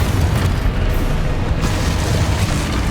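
A booming Exposo explosion spell in Hogwarts Legacy, a loud, dense blast that fills the moment and rumbles on without a break.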